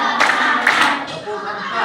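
Two sharp bursts of group hand clapping ring out in a classroom-style coding training session, each short and crisp, with a background murmur of voices carrying on between and after them.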